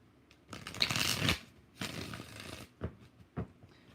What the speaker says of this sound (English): 2 more shuffles.